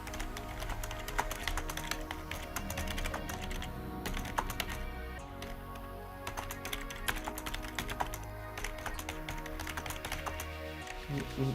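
Fingers type a comment on a computer keyboard, producing steady, rapid clacking keystrokes in dense bursts over about eleven seconds, close and clear with no talking.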